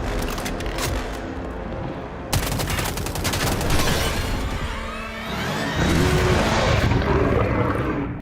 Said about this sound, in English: And it has quite a nice shooting sound as well.